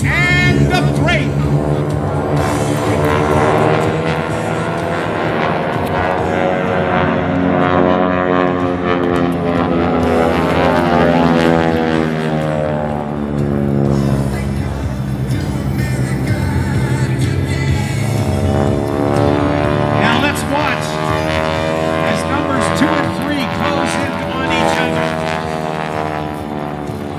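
Aerobatic propeller airplanes of an air show team fly a downward bomb burst with smoke on, their engines droning loud and continuous throughout, the pitch sweeping up and down as the aircraft dive and split apart.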